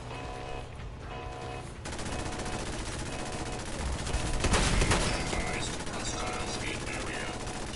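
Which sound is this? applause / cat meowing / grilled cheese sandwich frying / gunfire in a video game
gunfire in a video game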